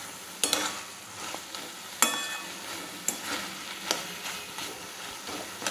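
Thor (banana stem) frying in a pan with mustard and dried chili, a steady sizzle broken by sharp stirring scrapes and clinks at irregular intervals, close up with no voices.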